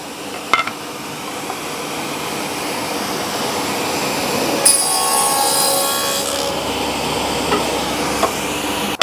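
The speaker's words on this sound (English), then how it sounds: "Saw on, dust extractor on." A table saw cuts a single dado in overlooked timber for a foot stool while a dust extractor runs, the saw noise rising into a loud sustained whine at mid-clip over a steady extraction hiss.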